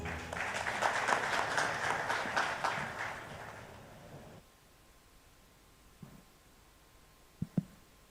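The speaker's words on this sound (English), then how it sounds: "Please give them a warm round of applause." An audience claps steadily at an ET World Leaders Forum inaugural session, loud and dense for about four seconds before fading into a quiet room broken by a few faint knocks.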